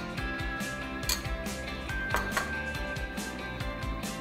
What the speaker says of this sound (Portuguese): Eu vou colocar o arroz já cozido